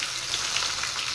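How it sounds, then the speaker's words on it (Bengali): Chopped onions sizzle steadily in hot oil with whole cumin, bay leaf, cloves, cardamom and cinnamon, a close, even, unbroken frying hiss for prawn curry. "এবার পেঁয়াজগুলো একটু ফ্রাই করে নেব"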